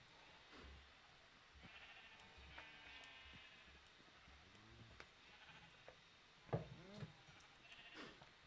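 Several faint bleats from colored sheep in a video game rise at scattered moments over a low, steady hum, with one slightly louder call near the end.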